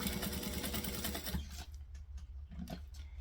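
A sewing machine stitches along the edges of a bucket bag, giving a steady, dense mechanical whir close by for over a second before it drops to quieter handling and fabric rustles.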